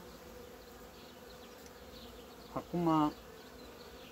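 Honeybees of a strong colony hum steadily in an open hive around the frames, a low continuous drone, with a brief voice speaking near the end.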